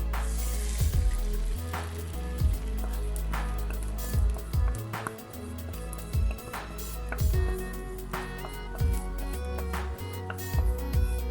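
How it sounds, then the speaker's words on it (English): Oil sizzles and crackles steadily in a hot pan as an egg fries for fried meehoon noodles, with intermittent scraping and stirring knocks over the hiss. "This frying pan already ready. We put the egg."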